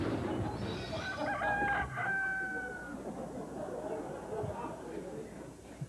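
A man imitates a rooster's crow, a drawn-out, wavering cock-a-doodle-doo from a human voice, heard over studio audience murmur and talk during a television talk show.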